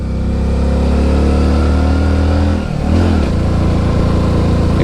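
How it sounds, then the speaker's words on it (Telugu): A motorcycle on a long road trip toward Myanmar pulls away in first gear, its steady engine drone dipping briefly as the rider shifts into second and then picking up again, loud and close with no talk. "సెకండ్ గేర్లో మూవ్ చేయడానికి ట్రై చేస్తున్నా బండిని"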